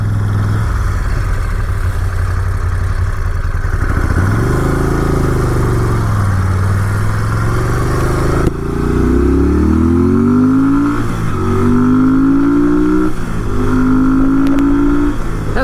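A 2012 Moto Guzzi Norge 8V motorcycle engine runs loud and steady while riding, with rising and falling revs as the rider accelerates through several gear changes, no talking.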